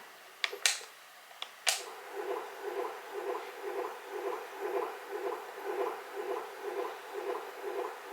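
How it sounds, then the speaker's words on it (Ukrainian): After a few sharp clicks, a Fisher-Price otter sleep toy plays a low, muffled heartbeat that pulses steadily and evenly, a soft rhythmic thumping that repeats without pause. "серцебиття."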